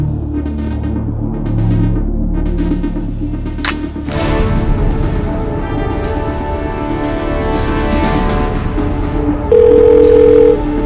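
A repeating electronic phone ringback tone pulses in regular bursts, followed by a steady continuous tone near the end, with no talking.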